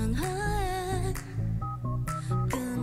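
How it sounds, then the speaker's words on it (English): A run of electronic phone dial tones, several beeps of different pitches strung together in a melodic, tune-like sequence, clear and up close. "musicality with the phone beeps"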